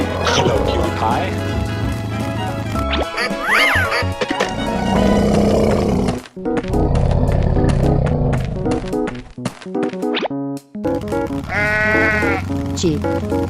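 Sheep bleating in a busy, music-laden mix, with several short bleats standing out among other sounds and a voice talking over parts of it.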